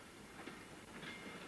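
A passing train rumbles steadily, a broad continuous roar of wheels and carriages holding at a similar loudness throughout with no voices.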